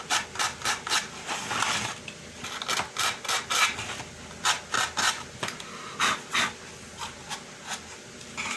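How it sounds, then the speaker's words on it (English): Rhythmic rasping strokes of sandpaper rubbing the edges and corners of a wooden model railway carriage shell, close and fairly loud, in short repeated bursts with brief pauses. "just a quick touch up with sandpaper just to remove the sharp edges"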